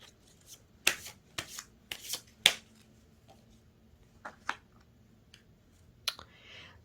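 Tarot cards are shuffled and drawn in a few close, crisp riffling and snapping bursts separated by quiet gaps.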